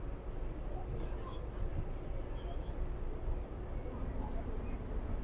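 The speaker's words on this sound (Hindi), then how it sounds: "विक्टोरिया, मशहूर विक्टोरिया रेलवे स्टेशन।" Trains rumble at Victoria railway station in London, a steady low roar of rail traffic filling the station with a faint high squeal partway through, no voices.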